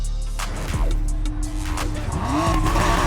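Mazda Miata drifting in Need for Speed, engine revving and shifting with tire squeal sliding up in pitch during a skid, loud and continuous, with background music.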